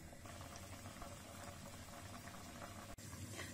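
Jam with a little butter added simmering in a pot on the stove, a faint, continuous bubbling and popping with a brief clink partway through.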